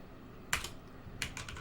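A sensitive computer keyboard is typed on in two quick, faint bursts of soft clicking keystrokes, one short burst and then a slightly longer run, over a low background hiss.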